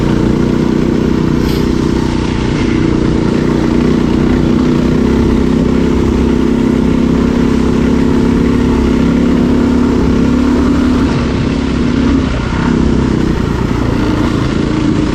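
Several motorcycles ride along a dirt trail in Idaho during a multi-day off-road tour, their engines droning loudly and steadily throughout with slight surges in revs and no talking.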